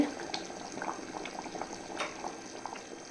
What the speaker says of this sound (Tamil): புளிக்குழம்பு தலபுலான்னு கொதிக்குதா?